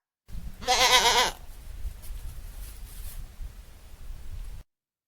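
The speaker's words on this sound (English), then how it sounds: "G for goat." A single loud goat bleat, quavering and about half a second long, followed by quiet background hiss.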